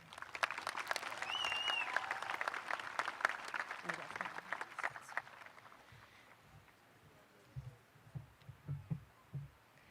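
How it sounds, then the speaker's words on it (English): Applause from the audience at a 2023 middle school promotion ceremony, dense and bright for about five seconds before fading into quiet room noise with a few low thumps. "let's also give a round of applause to our MCs, Yona Jones and Blair Mosier."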